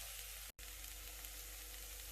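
Faint, steady sizzle of corn added to cabbage, broccoli and zucchini frying in a pan, with one brief dropout in the middle and no talking.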